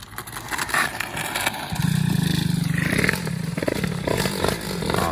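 A Peugeot 103 moped engine starts and settles into a buzzing two-stroke idle, close and steady, with some clattering mechanical noise at the start.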